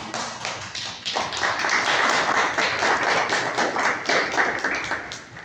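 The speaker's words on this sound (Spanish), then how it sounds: "Denle un aplauso al Señor" Church congregation applauding for the Lord, a steady burst of many hands clapping that starts abruptly and continues loud and dense for several seconds.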